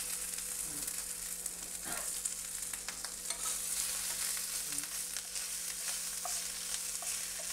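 Fennel seeds and crushed ginger garlic paste frying in coconut oil over low heat, a faint continuous sizzle with a few light stirring scrapes, no voices.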